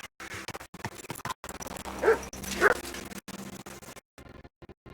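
Dog in Kingdom Come: Deliverance II giving a few sharp yips and barks close by, spread out in short bursts with whimpering between them over quiet game ambience.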